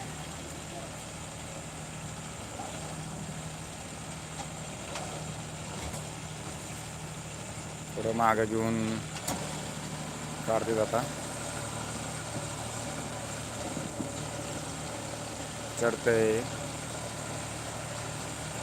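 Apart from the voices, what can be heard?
John Deere tractor engine running in sugarcane field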